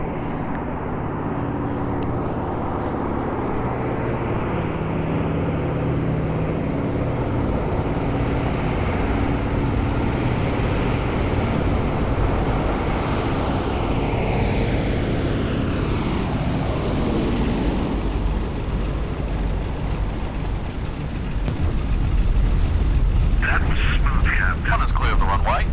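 Four radial engines of an A2A B-17 bomber drone steadily as it lands in the flight simulator FSX, a dense, loud, continuous roar that rises slightly near the end, with a voice talking over it.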